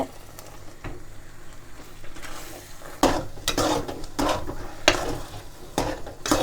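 Scraping and stirring of thick thothal sweet mixture in a pan, with repeated spoon strokes against metal growing louder and more rhythmic, and no talking.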